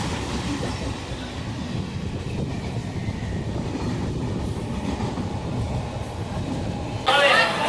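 Continuous rumble and clatter of a moving train carriage on a rainy day, steady and close, with faint voices underneath and a brief bright screech near the end.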